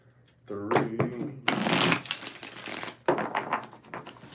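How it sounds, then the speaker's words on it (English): Tarot cards being shuffled by hand in several bursts of riffling and sliding, close and fairly loud, with a voice speaking between the shuffles. "2 more shuffles."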